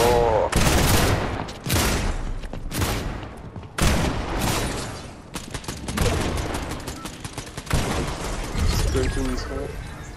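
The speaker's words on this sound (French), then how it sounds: "ça se tire dessus, ça se tire dessus, ça se tire dessus" Dense, loud gunfire in a Fortnite shootout, with near-continuous overlapping bursts and shots throughout and players' voices talking under the noise.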